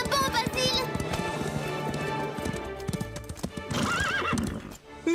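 In a French cartoon, horses gallop with steady rapid hoofbeats throughout, loud and close, while repeated shrill neighs and whinnies cut in over the running.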